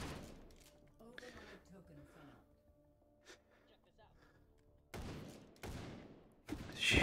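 Shotgun blasts in the VR shooting game H3VR, with three loud heavy shots near the end after a quieter stretch with a speaking voice and softer game sounds.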